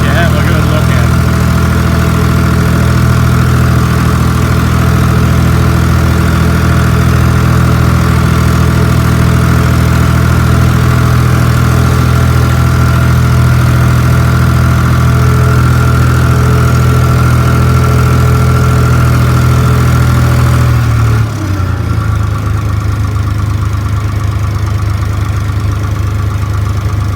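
A small tractor engine runs steadily at close range while being backed out of a shed, a loud continuous droning idle that shifts pitch and drops slightly near the end.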